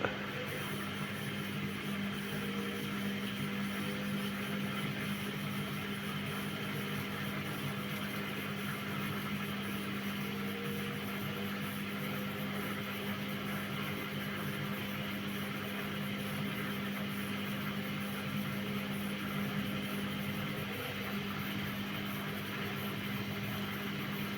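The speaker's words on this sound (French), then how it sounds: "Ça y est, elle lance son essorage." Steady mechanical hum with a low motor drone and faint rising whine, a Candy washing machine showing error 08 running up toward its spin, continuous and fairly even throughout.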